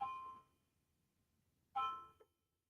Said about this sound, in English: I don't know if you can hear my grandfather clock chiming.